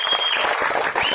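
Audience applause in an indoor gathering, a steady dense clatter of many hands clapping at close range, continuing without pause for the whole stretch.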